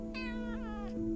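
A pet cat gives one drawn-out meow, close and clear over a low steady indoor hum, with a brief chirp at the end.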